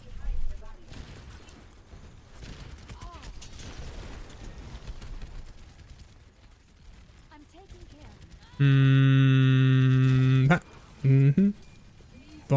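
Gunfire in the Overwatch video game cracks in scattered bursts amid game noise and a talking voice, followed by a loud sustained tonal blast and a short second burst near the end.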